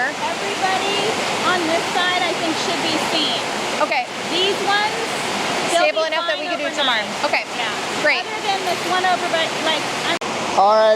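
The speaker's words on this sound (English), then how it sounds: "You can hear the rain in the background" Heavy pouring rain hisses as a dense, constant wash behind several people talking close by in a conversation.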